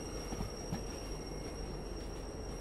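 Freight train braking in the Derail Valley simulator, a steady low rumble of rolling cars with faint wheel squeal throughout, no voices.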